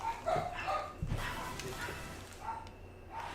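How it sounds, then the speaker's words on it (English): Several dogs bark and yip in the distance, scattered short barks rising and falling over a faint background. "There go the dogs again."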